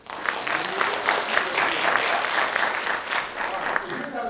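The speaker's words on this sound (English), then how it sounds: "Give yourselves a round of applause." Loud, sustained applause and clapping from a conference audience of interns, steady for several seconds with a few sharper claps standing out.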